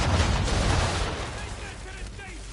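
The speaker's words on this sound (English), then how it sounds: "Fire the cannon." A ship's cannon broadside firing in the Assassin's Creed 3 video game, a loud, deep rumbling blast of artillery that rolls on and slowly decays.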